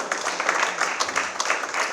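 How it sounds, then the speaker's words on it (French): An audience at a festival round-table on drawing the territory of tomorrow applauds, a dense, steady patter of many clapping hands, moderately loud and even throughout. "On peut les applaudir s'il vous plaît."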